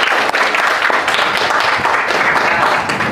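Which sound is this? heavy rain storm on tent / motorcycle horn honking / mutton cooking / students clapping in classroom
students clapping in classroom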